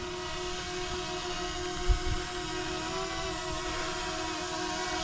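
A Hubsan Zino Mini Pro drone running firmware 1.3.7 hovers nearby with a steady high-pitched whine and buzz that holds continuously, broken by one brief low thump.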